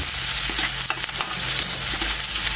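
Onion being stirred and sautéed in a hot pan for a Filipino mussel tinola, giving a steady broadband sizzle with soft scraping stirs throughout, close and fairly loud, with no talking.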